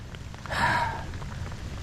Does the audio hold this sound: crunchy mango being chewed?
no